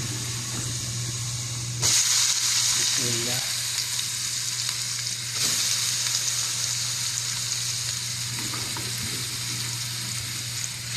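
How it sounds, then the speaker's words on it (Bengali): Beetroot goes into a pan of frying onions, a loud steady sizzle and hiss with bursts of sharper crackling as the pieces hit the hot oil, plus occasional stirring scrapes. "দেখেন আমার পেঁয়াজটা হয়ে গেছে প্রায় আমি এখন বিটরুট দিয়ে দিতেছি"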